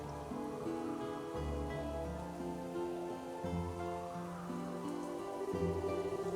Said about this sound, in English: You didn't have to come out here in the rain.